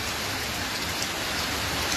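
Steady, dense rainfall hissing evenly throughout, a continuous wash of drops on surfaces with no voices.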